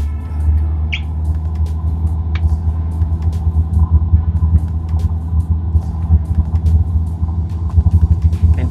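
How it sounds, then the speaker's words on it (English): An aircraft engine runs at full throttle for takeoff in Microsoft Flight Simulator 2020, a loud, steady, low droning roar that holds through the whole stretch with a slight pulsing flutter. "Go full throttle."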